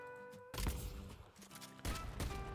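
Rapid gunfire from a skill in the shooter game Deadlock crackles in dense bursts, loud and close, with a short lull before another volley over faint musical tones.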